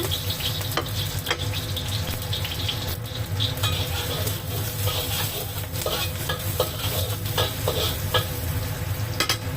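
Garlic sizzles steadily in a hot pan for nearly ten seconds, a dense crackling fry with intermittent stirring scrapes and clinks, close and fairly loud, no talking.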